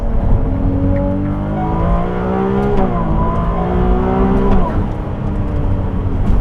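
A Ferrari 296 GTB hybrid sports car accelerates hard through second, third and fourth gear, its loud engine note climbing steadily in pitch with sharp dips at each upshift, heard continuously from inside the car with no talking.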